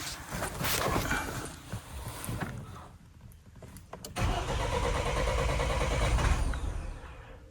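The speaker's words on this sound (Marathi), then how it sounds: "आपण जरा आता गाडी स्टार्ट करून बघू, जरा वेळ त्याला गरम होण्यासाठी तशी चालू ठेवून देऊ." A car engine cranks for several seconds in bitter cold at high altitude around Hanle, stalling briefly before catching and settling into a steady, close idle.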